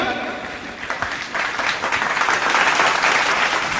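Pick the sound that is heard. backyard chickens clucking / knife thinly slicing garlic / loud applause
loud applause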